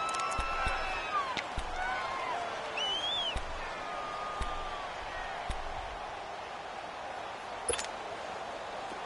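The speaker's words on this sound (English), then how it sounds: "The crowd getting into it as we come up on a big 3rd down" Stadium crowd noise from a Madden 17 football video game swelling steadily throughout as fans get into it, a continuous broad roar with scattered sharp clicks and whistle-like tones over it.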